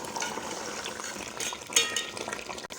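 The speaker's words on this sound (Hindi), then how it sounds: "उसके बाद 10 मिनट के लिए अच्छी तरह भुनाई करेंगे।" Beef paya with masala gets stirred and fried in a pan, a soft continuous sizzle under scraping and light clinks of a spoon against the metal, fairly quiet and close.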